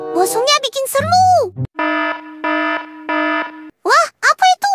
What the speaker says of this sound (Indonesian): Aduh, alarm. Itu tanda bahaya.